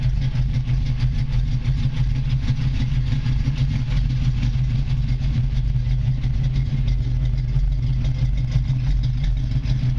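A 1978 Chevrolet Camaro LT with a 350 V8 idles steadily, its deep, even rumble loud and close for the full stretch with no talk over it.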